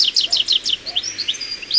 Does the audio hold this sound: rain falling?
no